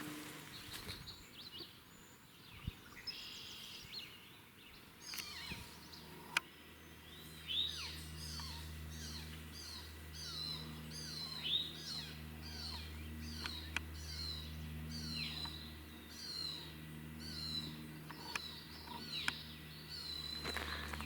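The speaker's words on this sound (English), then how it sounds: "A grouse with her chicks." Repeated high chirping calls from a grouse with her chicks, scattered through the clip, over a steady low engine-like hum and faint outdoor background.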